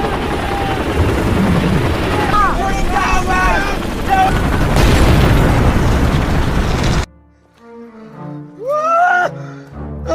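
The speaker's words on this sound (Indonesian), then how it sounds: "helikopter itu mengakibatkan ledakan lain dikarenakan angin dari baling-baling helikopter itu menyapu tanah serta batu" Loud blasts of landmines set off by helicopter rotor wash in a desert go off over the roar of helicopter rotors, then the noise drops away to quieter scattered sounds.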